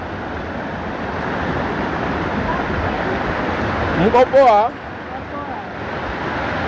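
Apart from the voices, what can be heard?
flood water rushing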